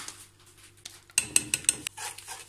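A spoon stirs a cocoa chocolate-sauce mixture in a pot on the stove, giving a quick burst of bright metallic clinks and scrapes against the pot, near and moderately loud after a quiet stretch.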